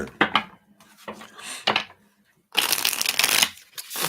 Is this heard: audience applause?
no